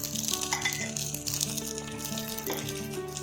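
Sliced pav bread frying in butter in a pan, a steady close sizzle with a light crackle, running continuously under a background musical tone.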